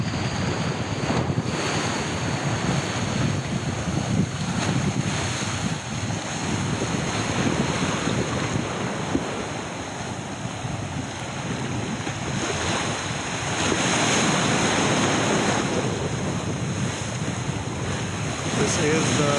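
Ocean waves meet from opposing directions at the edge of Naked Island near a Siargao lagoon, making a continuous close roar of surf under heavy buffeting wind noise on the microphone, with no talking.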